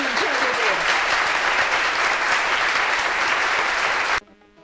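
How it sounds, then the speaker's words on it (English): Loud, dense applause mixed with cheering from a large crowd plays continuously, broken by a short sweeping tone near the start, and cuts off abruptly just before the end. "A round of applause for Infograms, ladies and gentlemen!"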